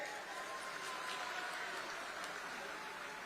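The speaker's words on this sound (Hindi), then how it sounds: "एक बार जोरदार आप सब अपने लिए ताली बजा दीजिए जोर से" A crowd at a political youth club rally claps, a steady, even wash of applause sustained throughout without voices standing out.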